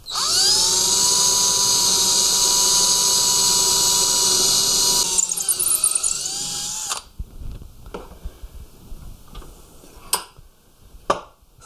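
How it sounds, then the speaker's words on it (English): A power drill bores a hole through an oak lantern base, a loud, steady high whine running several seconds before spinning down, followed by scattered knocks and clicks of the tool and wood. "We have to run the wire out the side, so we're going to drill a hole through there."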